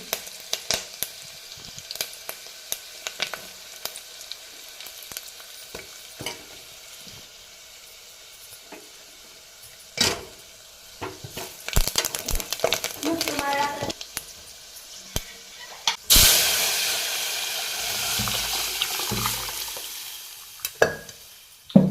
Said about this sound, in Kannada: ಜೀರಿಗೆ ಸಾಸಿವೆ ಹಾಕೊಳತ್ತೀನಿ ನೋಡ್ರಿ ಸ್ವಲ್ಪ ಕರ್ಬೇವು ಹಾಕೊಳತ್ತೀನಿ ನೋಡ್ರಿ